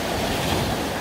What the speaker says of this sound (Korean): 파도가 너무 심해요.